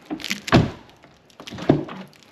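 Two dull thunks from a Tesla Model Y door being worked, spaced about a second apart, close and fairly loud with light mechanical clicks between.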